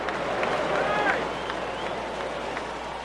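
A baseball stadium crowd in the video game MLB 09: The Show, Pirates at Marlins, gives off a steady murmur and roar during a tense at-bat, with game commentary over it.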